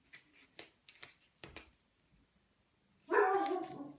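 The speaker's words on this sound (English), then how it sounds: "Oh, my dog's heard something." A dog indoors lets out a string of sharp barks, several spaced yaps and woofs in the first half, then a pause and one louder, longer bark up close.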